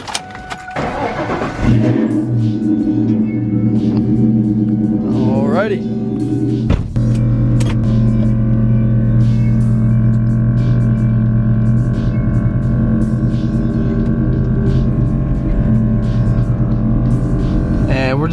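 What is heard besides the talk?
Ford Mustang starting and pulling out of carport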